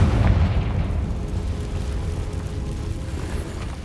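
A Confringo spell explosion in the video game Hogwarts Legacy bursts loudly at the start, then settles into a rumbling, crackling roar that slowly fades, with no one talking.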